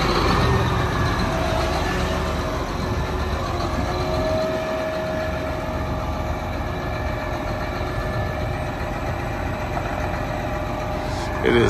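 A tractor idles steadily while hitched by its 3-point hitch to a Lockwood Air Cup potato planter inside a tight shed, a loud constant engine rumble throughout.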